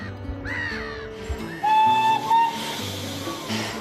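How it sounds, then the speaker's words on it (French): An authentic steam train gives a sustained whistle near a bay, rising over a background of hissing steam and low mechanical rumble, heard alone and fairly loud. "C'est à bord d'un authentique train à vapeur"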